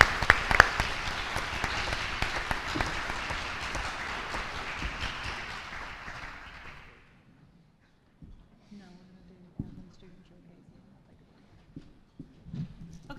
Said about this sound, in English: please help me give them one more round of applause